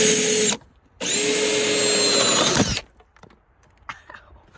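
A power drill whirs in two bursts, a short one then a longer sustained run, boring with a Diablo spade bit while building a birdhouse, followed by quieter handling noises.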